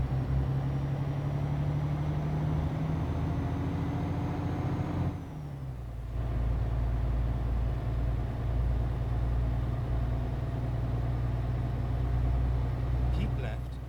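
A heavy MAN TGX truck engine in Euro Truck Simulator drones steadily and loudly, dips briefly as it shifts, then rumbles on at a lower pitch.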